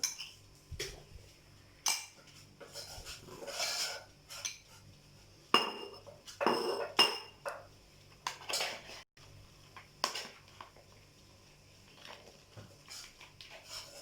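Metal utensils clinking and scraping in a dish while pasticcio ingredients are mixed, with irregular taps and knocks and bursts of stirring, near and moderately loud, in a quiet kitchen.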